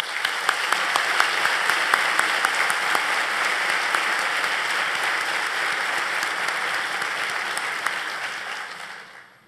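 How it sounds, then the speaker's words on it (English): Convocation audience claps in a sustained, dense round of applause from a large crowd, steady for several seconds before tapering off at the end. "Please join me in a hearty round of applause for this very hardworking and wonderful group"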